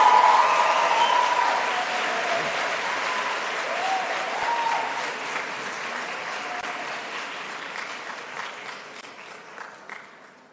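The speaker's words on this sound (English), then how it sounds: "Ladies and gentlemen, a round of applause for Sira." A graduation ceremony crowd gives a round of applause for a graduate, loud and full at first, then slowly thinning to scattered claps toward the end.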